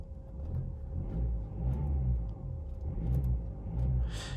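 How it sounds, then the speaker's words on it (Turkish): A cold 2020 Mercedes E200d with a 160 hp diesel engine and 9G-Tronic gearbox hums faintly from inside the cabin, a steady low rumble that swells gently in slow waves without voices. "Yine bir ses motor sesi var ama çok uzaktan geliyor ve şu anda araba tabii ki soğuk."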